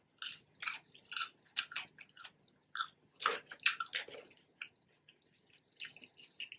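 Eating fries from Church's Chicken at close range, with a run of soft, wet chewing and mouth sounds in uneven bursts, some sharper smacks, and no talking.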